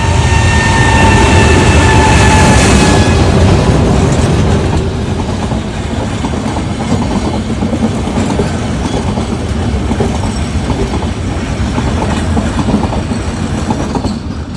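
A train on the Ooty mountain line arrives at Coonoor station, rumbling loud and close with rhythmic clickety-clack from the wagons, a high whine fading early and a continuous heavy roll with no voices.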